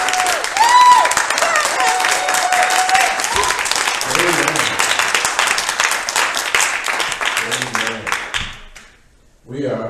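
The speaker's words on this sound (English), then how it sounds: "Will you give your pastor a round of applause," A church congregation gives its pastor a round of applause during a Lent sermon, with loud, dense clapping that fills most of the stretch, voices and cheers mixed in, before it thins out and fades near the end.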